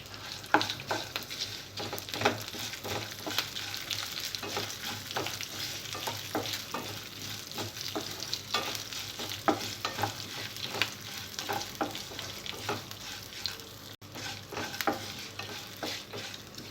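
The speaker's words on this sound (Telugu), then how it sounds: "జీలకర్ర, ఆవాలు, పచ్చిమిరపకాయ ముక్కలు, ఎండుమిర్చి వేసి బాగా" Cumin, mustard seeds, chopped green chillies and dried red chillies frying in oil for coconut rice, a steady sizzle broken by repeated stirring scrapes and crackles throughout, close and with no talking.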